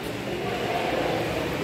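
Steady, loud rumble of a train at Balasore railway station, a dense continuous roar with faint rattling that fills the whole short stretch, no voices on top.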